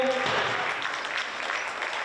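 Crowd applauding young basketball players at a youth basketball event in Sežana, a dense, steady round of clapping throughout, with a brief voice at the outset.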